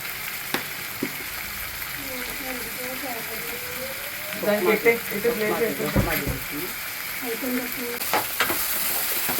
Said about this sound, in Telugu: నెక్స్ట్ టమాటాలు వేసుకుంటున్నాను.